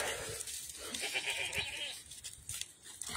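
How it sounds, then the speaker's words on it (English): A farm goat bleats clearly up close, a few wavering cries standing out from faint background noise. "She's a no-ear goat."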